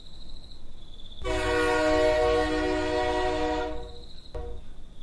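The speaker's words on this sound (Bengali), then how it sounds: "কিছুক্ষণের মধ্যে হুইসেল বাজিয়ে একটা ট্রেন স্টেশনে ঢুকতে শুরু করলো।" A train sounds a long, loud whistle as it pulls into a station, a sustained tonal blast of about two and a half seconds over low rumbling, followed by a brief short toot.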